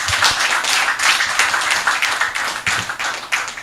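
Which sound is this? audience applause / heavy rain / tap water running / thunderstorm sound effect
audience applause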